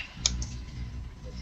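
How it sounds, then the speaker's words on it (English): Keys tapped on a computer keyboard in a quick, light burst, with one sharper click standing out, close and moderately loud over a faint background hum. "Lawrence, you got your mic on and you're typing"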